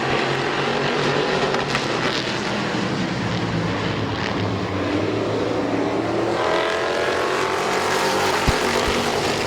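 Race cars roaring around the oval at Midvale Speedway, a loud continuous engine drone with wind buffeting the microphone, the pitch shifting as the cars pass, and no talk.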